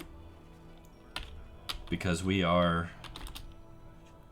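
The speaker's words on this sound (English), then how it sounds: "look, I'm typing" A computer keyboard clatters with quick light keystrokes through most of the moment, and someone speaks over the typing partway through.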